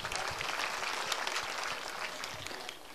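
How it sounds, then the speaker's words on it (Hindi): A crowd claps steadily and fairly loudly for a few seconds, a dense patter of many hands with no voices over it. "बहुत अच्छा प्रश्न है, ताली बजाओ।"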